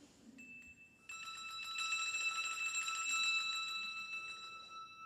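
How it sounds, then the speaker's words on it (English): A small handbell from a church bell choir is shaken in a rapid jingle, swelling louder toward the middle and then easing off slightly, close and alone. "shaking the bell with a crescendo and then a decrescendo"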